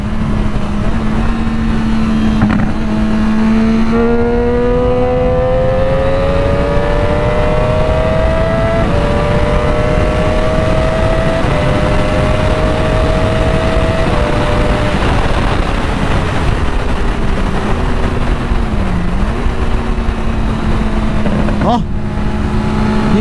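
Triumph Daytona 675 sport motorcycle ridden through wet curves: a steady roar of wind and road noise with a clear engine tone that climbs through the revs, holds, then drops and rises again, close and loud throughout.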